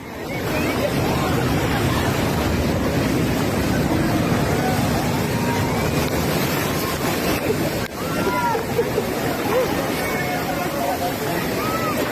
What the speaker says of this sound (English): huge waves crashed into the streets of western France